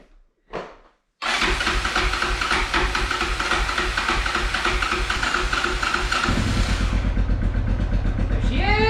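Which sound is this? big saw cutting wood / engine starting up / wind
engine starting up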